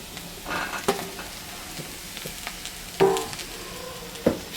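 Tomatoes hitting hot oil in a frying pan, with a soft steady sizzle and a few sharp bursts and spatters as pieces drop in and get stirred, close and moderately quiet.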